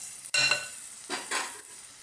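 Onions and green chillies are stirred in hot frying oil, with a brief scrape and rustle followed by a soft sizzle and a second stirring pass, fairly quiet with no talk.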